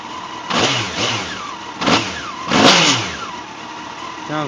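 A 2002 Honda CBR954RR motorcycle on its stock exhaust revs hard several times, with sharp rising and falling throttle blips over a steady idle, loud and close, without talk.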